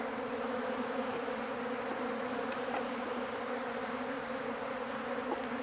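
Italian honey bees swarm around an opened hive in summer heat, their dense steady buzz filling the air close by, continuous and unbroken throughout.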